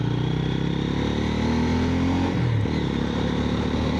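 A motorcycle engine drones close by, its pitch dropping sharply as it passes a crossroads in Banshkhali, Bangladesh, with other traffic rumbling steadily in the background.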